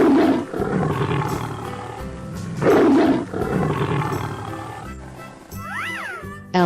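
A tiger in a 3D animal video game gives two loud, growling roars a couple of seconds apart, followed by a short electronic game chime.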